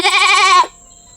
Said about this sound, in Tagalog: Mabait na to, mabait na kambing.